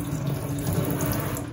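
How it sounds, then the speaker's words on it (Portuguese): Tap water runs steadily from a faucet into a container being filled to make a soapy cleaning solution for a dining table, a constant close rushing stream with no talk. "Vou encher de água."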